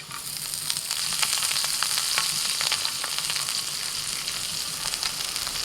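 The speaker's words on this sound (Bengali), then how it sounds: "তাওয়ার মধ্যে অল্প করে দিয়ে দিচ্ছি একটু সাদা তেল, গোটা জিরে, একটু ধনেপাতা কুচি" Whole cumin seeds and chopped coriander leaves frying in a little white oil on a hot tawa, a close, steady sizzle with crackling pops and occasional stirring scrapes.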